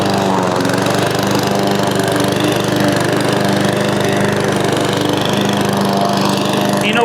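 An inexpensive Amazon Smartpower electric lawn mower cuts through very wet, thick, overgrown grass with a loud, steady whirring drone up close that holds even throughout.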